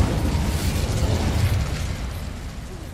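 An Incendio fire spell goes off in Hogwarts Legacy, a loud roaring blast with deep rumbling low end that holds steady before easing slightly toward the end.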